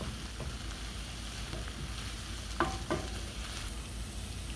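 Tomato paste is stirred into garlic frying in a pan while beef liver is cooked, giving a faint, continuous sizzle with a few soft scraping strokes of the spoon and no voices.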